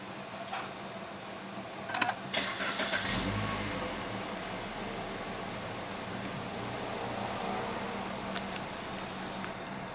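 A 2012 Suzuki Kizashi Sport with a continuously variable transmission starts by keyless push button: a brief cranking burst catches about two seconds in, then settles into a steady, close, quiet idle.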